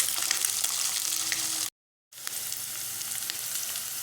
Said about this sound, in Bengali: আমি এখন রসুন আর পেঁয়াজটা আর বোম্বাই মরিচটাকে ভেজে নিচ্ছি